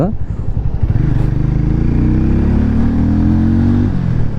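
A Hero Mavrick 440 motorcycle engine revs up loudly nearby, its pitch rising steadily under throttle before easing off, with a voice talking over it.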